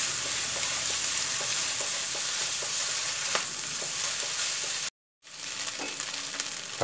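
Noodles and crab stir-fried with curry powder give a loud, steady sizzle with scattered ticks of a spatula moving the food, close up. A brief moment of silence cuts in near the end.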